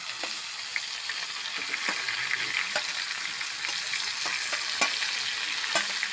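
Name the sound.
grated ash gourd frying in a wok with ginger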